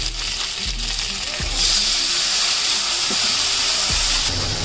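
Wet spice paste goes into hot oil with frying bata fish and taro for a Bengali curry, producing a loud, close hissing sizzle that surges and stays strong, with a few soft clanks of a spoon against the pan.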